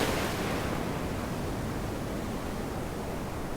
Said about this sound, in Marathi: गणपतीपुळेच्या शेजारचा गणेशगुळे बीच आहे हा